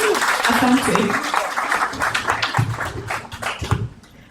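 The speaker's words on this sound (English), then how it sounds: "Constantly, yes, please clap for yourself." Audience at a Women's Day networking event clapping for themselves, a steady wash of applause with voices and cheers mixed in, fading out toward the end.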